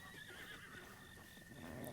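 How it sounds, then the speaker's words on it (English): A horse neighs in The Legend of Zelda: Breath of the Wild, a short whinny heard alone over a quiet, steady game background. "What's going on, horse?"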